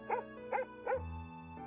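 Three short, bright dog barks from a video game, evenly spaced and upbeat, followed by a sustained low musical tone.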